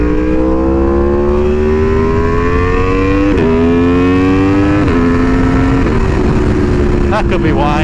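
An Aprilia Tuono V4R motorcycle tuned with a race map revs hard through a wheelie. The loud, steady engine note climbs in pitch, breaks briefly at several gear shifts, then keeps rising under constant rushing noise.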